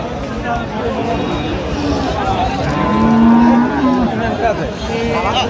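Cattle at a village livestock market in Teknaf, with bulls, cows and calves for sale, low bellowing moos rising over steady crowd chatter and bargaining voices.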